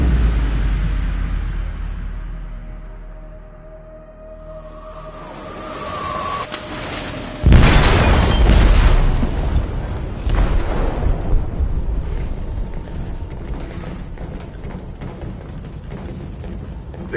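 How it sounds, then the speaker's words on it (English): A cargo ship's hold blows apart in the game Detroit: Become Human: a low rumble builds, then one loud, close blast sets off a long, roaring, debris-filled wash that keeps going for several seconds. "They detonated an explosive in the hold."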